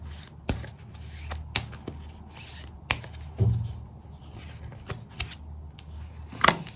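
Tarot cards being shuffled and drawn by hand, heard as a string of close, sharp snaps and flicks at irregular intervals over soft rustling, with no talking.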